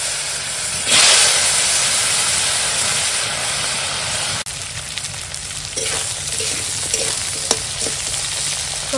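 Cut vegetables dropped into hot fish-frying oil with green chilli and five-spice panch phoron, a sudden loud hissing burst followed by a steady strong sizzle with occasional stirring clinks.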